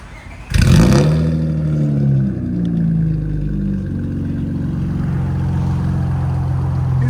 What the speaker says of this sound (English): Acura TL 2004 3-inch fully straight pipe into a Dynomax race bullet and 4-inch tip.